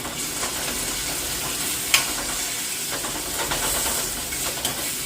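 Chopped medium-sized tomato sautéing in a pan for goat liver curry: a steady close sizzle and hiss with occasional scraping stirs and a light clink, continuous with no talking.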